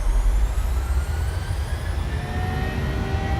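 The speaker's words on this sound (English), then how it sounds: "Takeoff power set." Transavia airliner engines at full takeoff power in Microsoft Flight Simulator at Innsbruck, a loud, continuous low rumble and roar with thin high whining tones above it, steady throughout with no voices.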